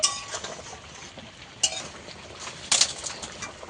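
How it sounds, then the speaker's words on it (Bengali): Fish curry cooked with freshly ground whole garam masala being stirred in a pot: a soft simmering hiss broken by a few brief spoon scrapes and clinks. "গরম মশলা দিয়ে একটু নেড়ে চেড়ে দেবো।"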